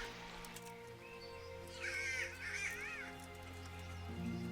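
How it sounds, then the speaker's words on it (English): A crow in the medieval role-playing game Kingdom Come: Deliverance gives a few harsh caws, mid-distance, over a steady ambient game drone, with no talk. "That annoying ass bird that you're hearing is going to come into play later."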